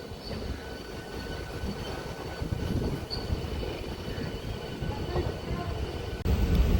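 An MMTS local train rumbles through Umdanagar railway station in Hyderabad, a loud continuous rolling of wheels and carriages with a sharp jolt near the end.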